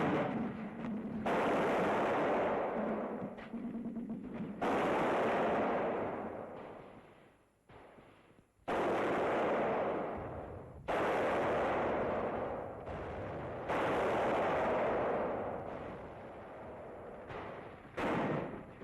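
Bursts of gunfire from a section laying down covering fire during 1943 house-to-house fighting, loud rattling volleys in several long stretches separated by short pauses, with no talking.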